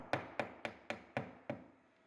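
Six sharp hammer blows drive a color-matched nail into a CertainTeed Cedar Impressions siding panel beneath a window, evenly spaced and close, each strike ringing briefly before the next, the last one slightly softer.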